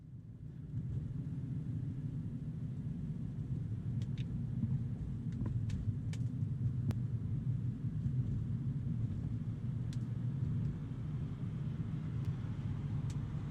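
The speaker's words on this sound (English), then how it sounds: "Accelerating onto the highway." A BMW converted to electric drive accelerates onto a highway, heard from inside as a steady low road rumble and wind roar with faint ticks and clicks, no voices over it.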